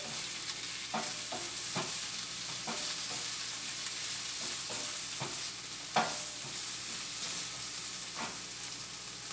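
A stir fry of vegetables cooks in a flat pan, steady sizzling underlaid with repeated scraping and clacking strokes of stirring, with one sharper knock partway through, close and alone without talk.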